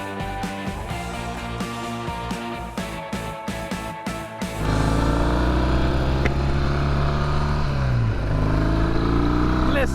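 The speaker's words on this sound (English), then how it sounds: "Listen to that British twin roar." A 1966 Triumph Bonneville T120R British twin motorcycle engine idles with uneven pops, then revs up into a steady, loud throaty roar that holds and rises in pitch.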